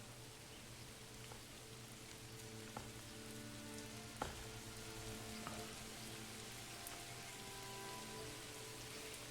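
Steady rain falling in the medieval city builder Manor Lords: a soft, even hiss of droplets on surfaces with occasional louder individual drips, quiet and continuous over a low ambient hum, no voices.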